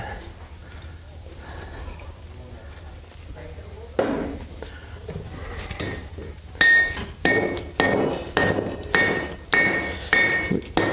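A blacksmith hammers the ends of a horseshoe to a taper, starting with soft blows and breathing, then ringing hammer strikes on the anvil in a steady rhythm of about one per second, close and loud.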